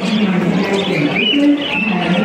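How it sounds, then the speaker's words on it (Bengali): Caged birds, including pigeons or doves, call and coo close by on a Howrah train platform before travelling to Amritsar, with loud overlapping warbling calls throughout a short burst. "কত নানা রকমের পাখি"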